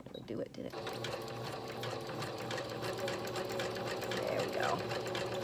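Domestic sewing machine stitching a zigzag, a steady rapid mechanical whir with fast repeating clicks that runs nearly the whole time, with a person talking quietly over it.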